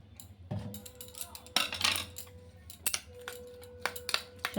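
A utensil clinks and scrapes in a bowl while egg is mixed with green chilli, onion, carrot and salt, giving irregular light taps and clatters, fairly close, with a faint hum underneath.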